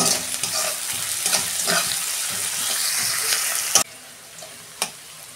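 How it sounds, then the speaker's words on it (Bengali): Onions fry in a pan during cooking of an elephant-foot-yam and potato curry, with curry leaves and salt added. A steady close sizzle with stirring scrapes cuts off sharply near the end, leaving quiet and a single clink. "এই যে পেঁয়াজ ভাজা হয়ে গেছে"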